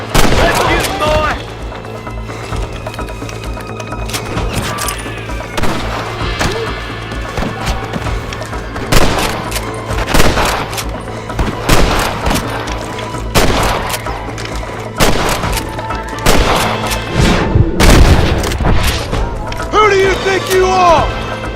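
Gunfire in the Western video game Red Dead Redemption: repeated sharp shots and cracks land every second or two under a continuous game soundtrack and ambience, with occasional voices.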